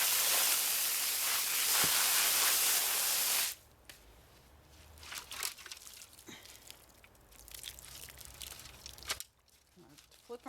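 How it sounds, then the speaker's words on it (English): Garden hose on high pressure spraying muddy dandelion roots, a loud steady hiss of water for several seconds, then splashing, rustling and handling noises as the roots are turned over. "So I just like to turn the hose on high and just rinse them as good as I can."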